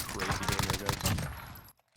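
Rapid bursts of automatic gunfire in the video game Warzone, a dense string of close, loud shots over about a second and a half that cut off abruptly into silence.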